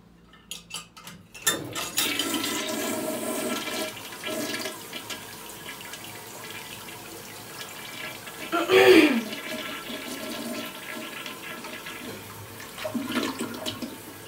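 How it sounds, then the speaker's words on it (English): A hotel room toilet in Indianapolis, Indiana flushes with a brief loud rush of water midway, surrounded by quieter running water, faint room noise and a voice talking. "if you are a toilet fan, please comment down below and tell me if you know what brand this is"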